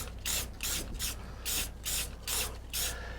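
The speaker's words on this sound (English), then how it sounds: "Now we're just going to spray these letters." Short hissing bursts of spray paint on carved wooden sign letters repeat in a steady rhythm, about seven sprays with brief pauses between them, close and clear.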